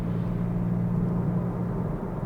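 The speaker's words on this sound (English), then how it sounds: "this has got a straight through exhaust on as well" Steady low engine drone and rumble of a remapped BMW 430d with the N57 diesel, big turbo and straight-through exhaust with no silencers, muffled from inside the well-insulated cabin, constant and unbroken.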